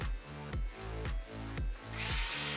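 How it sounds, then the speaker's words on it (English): A power drill bores pocket screw holes into wooden uprights through a Kreg pocket hole jig, in short repeated bursts with brief pauses between, close and loud. "here I am drilling in for a couple of the pocket screws on the left and right"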